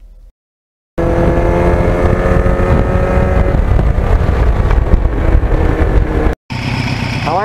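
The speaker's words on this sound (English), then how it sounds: "And this bike with the Norton muffler is great sounding" A 1989 Kawasaki GPX750R fitted with a Norton muffler roars loudly and steadily up close while riding, with wind buffeting the microphone. The engine cuts out briefly near the end before the sound picks up again.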